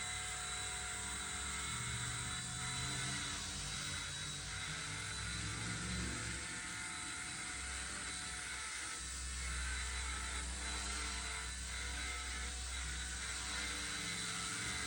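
A Rage RC Volitar X radio-controlled helicopter hovers indoors with a steady, close electric whine and buzzing rotor hum that holds throughout, shifting slightly in pitch as it maneuvers.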